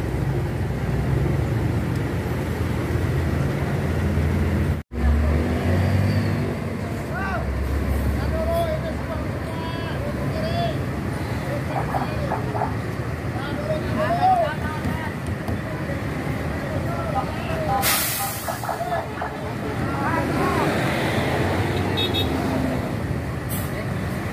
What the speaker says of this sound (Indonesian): Suasana lalu lintas sangat ramai ya.